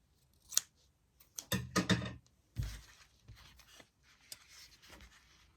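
Scissors cut through yarn while an amigurumi heart keychain is being crocheted, giving a few sharp, close snips in quick succession followed by softer handling rustles, with no talking.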